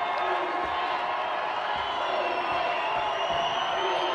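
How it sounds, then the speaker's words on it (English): Crowd at a women's college basketball game roaring and cheering in overtime after a long three-pointer gives the Cowgirls the lead, a dense sustained wall of noise with whoops, under a commentator's voice. "That got the crowd going again."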